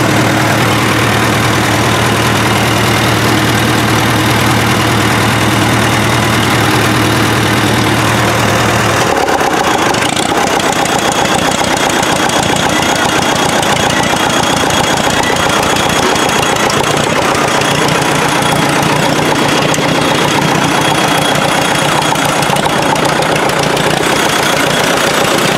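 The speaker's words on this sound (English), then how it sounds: "It likes to bounce back and forth between two and three cylinders on diesel." An old diesel engine, running again after 40 years, idles unevenly and keeps shifting between firing on two and three cylinders. A steady low rumble abruptly changes character partway through, then keeps a rougher, busier idle, with no talking.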